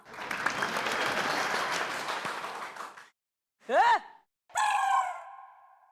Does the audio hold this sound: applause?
yes